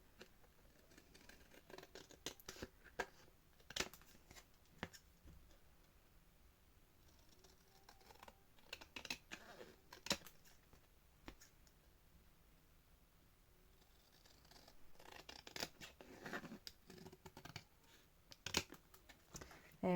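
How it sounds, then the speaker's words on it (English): Scissors snip and trim around the edge of a handmade paper card, quiet irregular cuts and paper rustles close by, with scattered louder clicks between soft pauses. "I'm now going to just trim around the edge, and I am going to do it with scissors."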